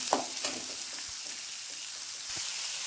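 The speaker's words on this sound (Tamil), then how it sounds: "ஒரு மீடியம் சைஸ் வெங்காயம் கட் பண்ணி போட்டுக்கிறேன் வெங்காயம் வதங்கட்டும்" Onions sizzle steadily in a hot pan, a soft continuous frying hiss with a few scraping stirs of a spoon.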